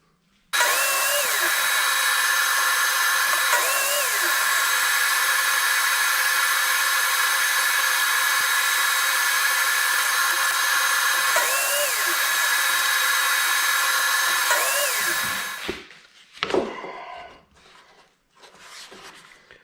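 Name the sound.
saw cutting a piece of wood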